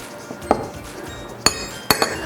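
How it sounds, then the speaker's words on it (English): A fork knocks against a bowl while mixing dry peanut butter cookie ingredients, giving a few sharp, close clinks spaced apart over a soft background hiss. "I'm just going to stir this together with a fork, get that all mixed in together"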